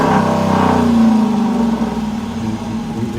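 A 5.7 liter Hemi V8 in an RT with resonators kept and the mid muffler deleted revs up loud and close, then settles into a deep, bassy rumble.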